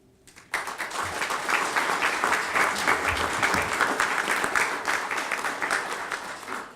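Applause for legislators at a bill signing by the Arkansas governor, a roomful of steady clapping that starts abruptly, holds at an even level for several seconds, then begins to thin.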